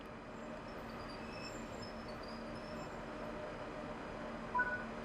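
ICE 1 high-speed train running on the Köln–Aachen line in Train Sim World 6, giving a steady, even rumble and hum of rolling stock that holds throughout, with a brief faint bump near the end.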